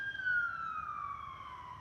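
Ambulance siren passing by, a single wailing tone sliding steadily downward in pitch as it moves away, moderately distant, with no voices.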